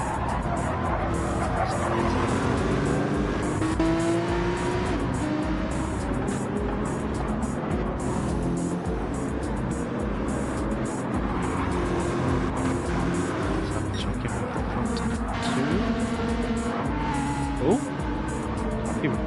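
A close pack of GT3 race cars running nose to tail, engines roaring continuously with shifting pitch and occasional tire noise, under steady commentary voices.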